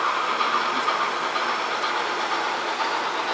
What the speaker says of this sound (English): So here comes the other train.